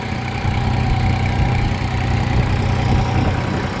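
A New Holland 5510 4x4 tractor engine runs at a steady, loud rumble with a constant low throb while pulling a plough through sticky soil, no voices over it.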